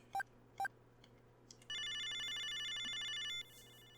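Inside a video game, a video phone dialing tone sounds as two short beeps, followed by a sustained electronic ringing tone of about two seconds, clean and synthetic over a low hum.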